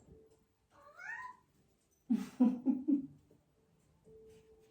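A house cat gives a rising meow, then after a pause lets out a louder run of four or five quick, closely spaced meows, heard up close in a quiet room.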